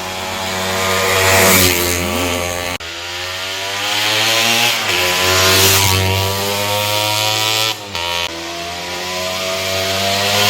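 A Honda MTX 125R two-stroke dirt bike revs hard while off-roading, its loud buzzing engine climbing and falling in pitch across several throttle blips and brief drops.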